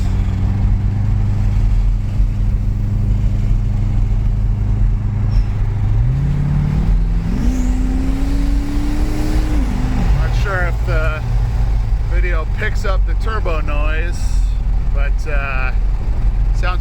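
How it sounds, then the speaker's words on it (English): A 2000 Chevrolet Corvette with a turbo at the exhaust end drones steadily while driving, rising in pitch as it revs up, then drops back, with a turbo-like whine and a voice talking over it toward the end. "Sounds like a big diesel pickup truck, honestly, because the turbo is right there at the end of the exhaust."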